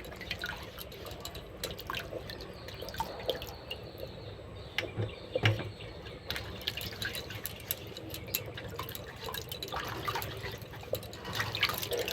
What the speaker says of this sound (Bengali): ভালো করে আমি চালতাগুলোকে এই যে ধুয়ে নিচ্ছি।